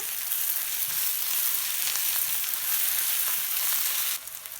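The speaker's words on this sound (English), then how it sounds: "Add your garlic in and stir." Garlic sizzling in a hot pan while being stirred for a vegan potato mushroom roast, a steady close crackle that drops away abruptly near the end.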